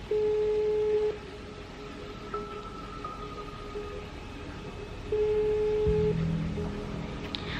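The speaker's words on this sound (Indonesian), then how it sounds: "Oke, kita video call. Beldering ya guys." Phone video call ringing tone: two steady electronic tone bursts about a second long, several seconds apart, clear over a soft hiss, with a brief burst of other electronic tones near the end.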